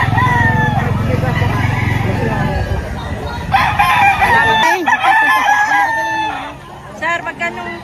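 Roosters crowing loudly among clucking chickens at a busy poultry market in Padre Garcia, Batangas, several overlapping calls close by over crowd noise and people talking.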